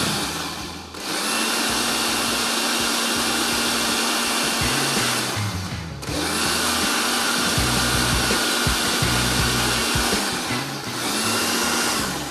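An electric grinder whirs loudly and steadily while grinding rice for rabri kheer, running in two long bursts with brief pauses between them.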